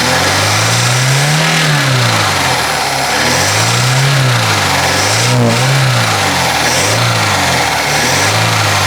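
A slightly warm Opel Ascona engine with an automatic choke is revved repeatedly with the throttle, its pitch rising and falling in several loud, close surges that settle back toward idle between blips.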